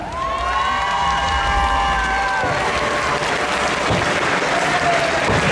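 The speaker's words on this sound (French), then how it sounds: "Attendez un applaudissement pour Lily Boom dans le personnage de Ursula." Loud, dense applause and cheering from an audience at a cosplay costume contest, steady throughout with whoops and shouts rising over the crowd.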